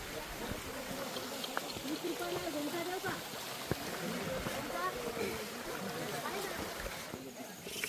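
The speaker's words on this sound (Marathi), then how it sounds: "आणि बघा पाऊस सुरू झाला" Steady rain patters all around on Brahmagiri mountain near Trimbakeshwar, Nashik, a dense, even hiss with occasional sharper drops, while people talk underneath.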